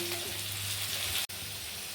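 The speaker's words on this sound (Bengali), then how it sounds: "লাল লাল করে ভাজবো" Potatoes with a pinch of salt fry in hot oil, giving a soft, steady sizzle broken by one sharp click, all fairly quiet and with no voices.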